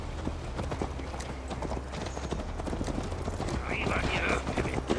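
Horse hooves clip-clop steadily while riding in Assassin's Creed Valhalla, a continuous rhythmic trot under low game ambience, with speech over it and a brief whinny-like sound near the end.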